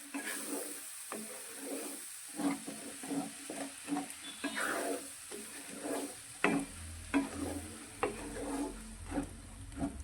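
Spoon scraping and stirring tomato puree into a sizzling, frying masala paste in a pan for brinjal and valor bean curry, in steady repeated strokes with a soft hiss underneath.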